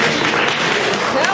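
An audience at a lecture on racism claps in a dense, steady burst of applause that fills the whole short stretch, mixed with crowd voices.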